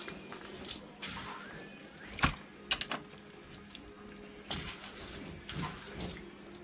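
Water from a tap rinsing a freshly filleted large fish on a boat, a soft, fairly quiet running splash with a few sharper clatters and bursts of flow.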